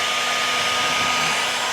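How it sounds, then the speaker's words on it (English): A heat gun switched on for a DIY wedding decoration woodworking project, blowing a steady, loud, close whooshing roar like a hair dryer, unbroken and alone throughout. "So we want our heat gun, nice easy tool to use."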